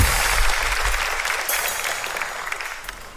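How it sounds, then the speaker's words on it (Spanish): An audience at a live comedy show gives a brief burst of applause. The clapping is loudest at the start and then tapers off over a few seconds. "¡Un fuerte aplauso!"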